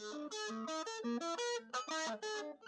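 A distorted electric guitar plays a quick augmented scale run of single notes, stepping up and down with short gaps between phrases.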